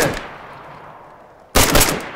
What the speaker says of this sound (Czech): střel tu srnku, já budu čekat na tvůj výstřel